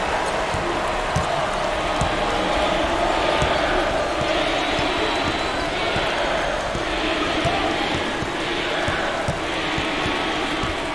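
Home crowd chanting in the NCAA Basketball 09 video game, Georgetown Hoyas against Maryland Terrapins, a loud sustained arena roar with rhythmic chant swells, under a commentator's voice.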